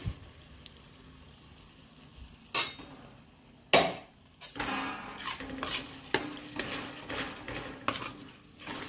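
Paste is stirred into fried onions in a pan for a cashew-garlic curry, with a spoon scraping and clanking against the metal in repeated close strokes over a soft sizzle.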